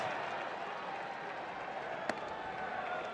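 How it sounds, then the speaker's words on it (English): Crowd murmur fills Kauffman Stadium during a Royals–White Sox baseball game with two outs in the seventh, a steady distant buzz of many voices with a single sharp crack near the end. "The crowd here at Kauffman Stadium starting to buzz a bit"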